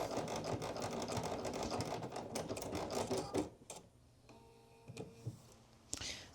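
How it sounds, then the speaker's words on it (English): A home sewing machine backstitches over zipper teeth while sewing a hoodie, running in a dense rapid stitching whir for several seconds, then stopping to leave a few faint clicks and knocks. "crank that hand wheel again, get over those teeth, and then backstitch"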